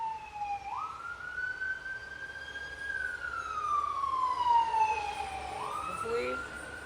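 Emergency vehicle siren passing outside, heard from indoors: a steady wailing tone that climbs, holds and slowly falls again, moderately distant, with faint traffic rumble beneath.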